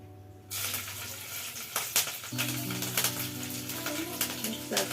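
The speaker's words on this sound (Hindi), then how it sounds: "कढ़ाई गर्म हो चुका है, हम इसमें डालेंगे हरी मिर्ची को डाल रहे हैं।" Green chillies dropped into a hot wok of oil for coconut chutney, a sudden loud sizzle that starts after a quiet moment and keeps crackling steadily, with a faint low hum underneath.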